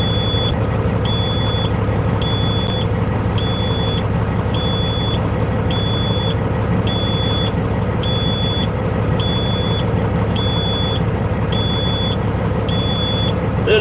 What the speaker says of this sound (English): Start this truck up, get the engine warmed up.